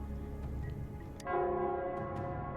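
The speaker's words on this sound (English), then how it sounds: "it's the Nell Squares bell." The Nell Squares bell in Wuthering Waves tolls, with a sustained, resonant ring that swells after a brief lead-in and hangs clearly in a quiet scene with no talk.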